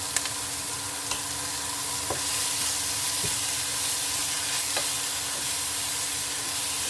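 Mixed sprouts sautéed in a pan give a loud, steady sizzle and hiss, with a few sharp clicks of a spoon stirring against the metal, no voices over it.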